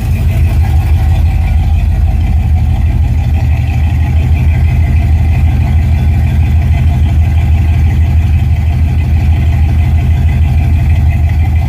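A 1971 Pontiac LeMans engine idles steadily while warming up, a loud continuous low rumble with even pulsing and no voices.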